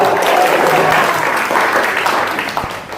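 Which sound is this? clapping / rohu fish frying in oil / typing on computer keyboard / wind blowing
clapping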